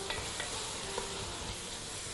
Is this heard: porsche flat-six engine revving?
no